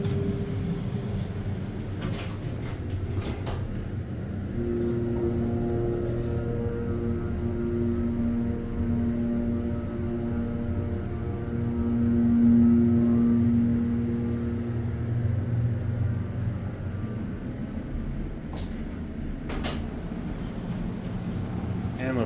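A hydraulic elevator ride at the Lantern Inn and Suites in Bradenton, Florida: a steady low motor and pump hum with a faint whine throughout, swelling slightly midway, with a few clicks and clunks near the start and end.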